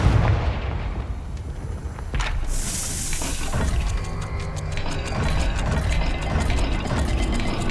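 A Confringo fire spell bursts in the Hogwarts Legacy video game. It lands as a heavy boom with crackling debris and a sharp hiss, and rumbling mechanical clatter follows.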